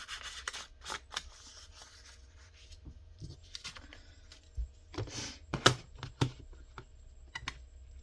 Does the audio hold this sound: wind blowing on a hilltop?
no